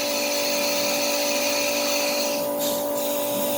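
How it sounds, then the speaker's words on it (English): A milling machine's drill bit punches holes in a workpiece, a steady high-pitched machining whine with constant motor tones running throughout and a brief shift in pitch near the end. "since the bit's already in the machine, there's no reason not to just go ahead and punch a couple holes there"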